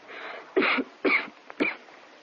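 A young woman with a bad cough lets out three sharp, close coughs, evenly spaced, over a faint background hiss.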